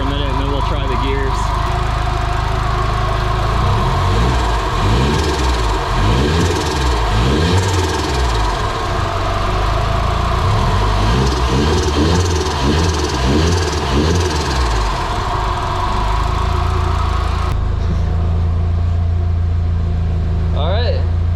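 Nissan 240SX with a CA18DET engine running steadily with its rear wheels spinning on jack stands, a continuous mid-pitched engine drone with light throttle rises, people talking over it throughout.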